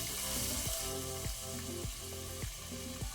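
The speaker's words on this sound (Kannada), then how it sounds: "ಜೀರಿಗೆ ಸ್ವಲ್ಪ ಕೆಂಪಾದ ನಂತರ 2 ದೊಡ್ಡ ಸೈಜ್ ಈರುಳ್ಳಿ ಹಾಕೊಳ್ತೇನೆ" Chopped onions sizzle in hot oil with cumin seeds for pav bhaji, a steady close frying hiss with stirring scrapes recurring every half second or so, no voices.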